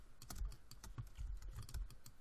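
Rapid keystrokes on a computer keyboard during logo design work in Adobe Illustrator, a steady run of close, crisp clicks and taps with no talking.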